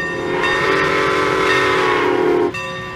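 Train pulling a coach and caboose arriving, a steady loud rumble with a sustained tonal horn-like drone that cuts off abruptly near the end.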